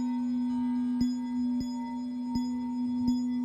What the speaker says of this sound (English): I guess this is how wizards tune their bells.